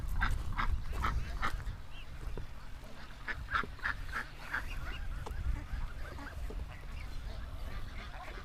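Farm ducks run out of their pen, giving repeated quacks and honking calls in quick bursts, fairly faint and somewhat distant over a low outdoor rumble.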